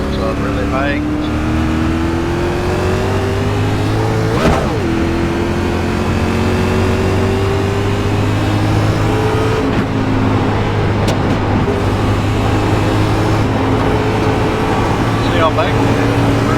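A simulated race car engine in iRacing at Rockingham drones and climbs through the gears at high revs, pitch sweeping up and down through corners, with someone talking over it throughout.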